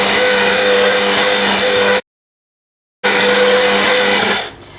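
A stand mixer kneads pandesal bread dough with a steady, loud motor whir. It cuts out completely for about a second, resumes at the same pitch, then winds down at the end.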